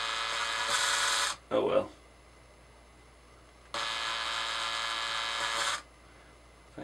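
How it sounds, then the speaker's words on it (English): A drill whines steadily as it bores into a hard plastic part to be mounted on a scale RC shifter arm, two sustained bursts separated by a short spoken remark and a pause. "we're going to attempt to drill a hole in the bottom of this to mount it on our shifter arm"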